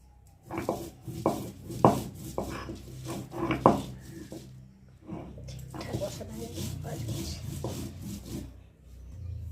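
Boiled vatkul leaves being ground into a paste on a grinding stone, a run of rough rhythmic rubbing strokes, close and moderately loud, with a person speaking over them.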